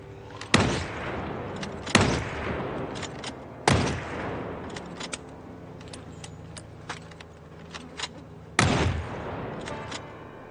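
Rifle rounds of .223 ammunition fired in the Project Zomboid video game: four loud, sharp reports at uneven intervals, each with a ringing tail, alone with no talk.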